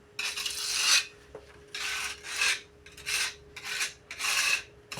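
A trowel spreads wall putty (massa corrida) across a wall in repeated rasping scrapes, about six strokes in an uneven rhythm, close and fairly loud, with no talking.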